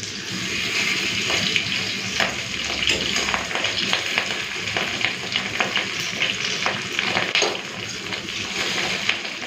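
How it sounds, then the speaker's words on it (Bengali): Fish roe fries in oil, a steady close crackling sizzle with occasional spatters and brief stirring sounds, with no talk over it. "তো যে কটা ধরেছে তেলের মধ্যে দিয়ে দিয়েছি, আর এতগুলো আছে, এটাকে ভেজে তুলে নিই"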